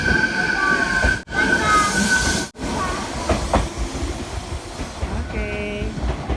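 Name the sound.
train passing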